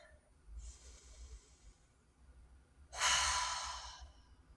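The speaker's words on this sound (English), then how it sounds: "Start with 1 full cleansing breath now" A full cleansing breath during a yoga breathing exercise, a soft breathy inhale followed by a louder, longer hissing exhale, close and otherwise quiet.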